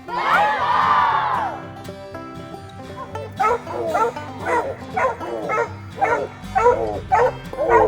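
A crowd shouts at the start, then several coonhounds bay in long, drawn-out howls, overlapping and repeating at a steady rhythm, fairly close.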